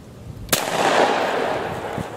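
A Browning Citori Special Sporting Clays Edition shotgun fires once at clay targets outdoors, a sharp loud blast followed by a long rolling echo that fades slowly, with no talking.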